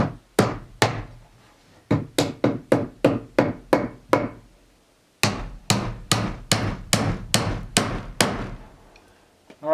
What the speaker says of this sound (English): that's our treated plywood. We're going to nail it on off across here